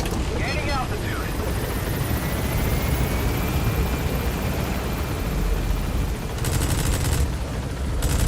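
Helicopter in a video game climbing in altitude, a steady loud rotor roar with a brief rising whine and a burst of gunfire-like crackle, and a voice speaking over it.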